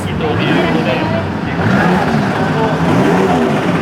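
Supercharged 1930s–40s Bugatti engines rev and rumble while warming up at the start of a classic car rally in Japan, a dense steady roar with voices talking over it.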